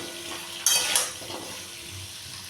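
Steady low sizzling hiss from a covered pan of frying taro, with a brief pair of metallic clinks like a lid or spoon early on.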